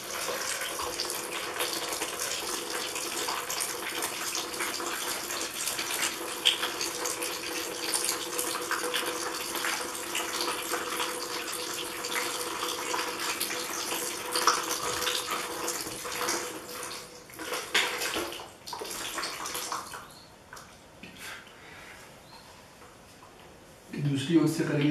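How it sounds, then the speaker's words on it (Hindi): Water streaming steadily during jala neti nasal cleansing, a continuous running and splashing flow that fades near the end, with someone talking over it. "अब आप देखेंगे जो पानी का फ्लो है वो पहले जो मैं क्रिया की उससे थोड़ा ज्यादा आएगा।"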